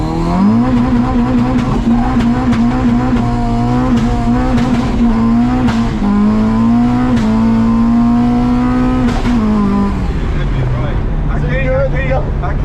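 H23A-powered all-motor Honda Civic revving hard with wheels spinning, a loud, steady high-pitched engine wail rising and holding before dropping off, with a voice talking over it.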